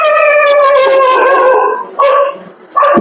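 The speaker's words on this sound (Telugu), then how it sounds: "కుక్కలు మాత్రం గ్యాప్ ఇవ్వట్లేదు." Dogs at the Bhadrakali temple in Warangal bark and whimper in a loud, close run of yelping cries that break off and then start again near the end.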